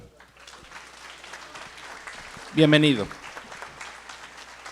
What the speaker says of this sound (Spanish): le pido por favor un fuerte aplauso a Benjamín Huerta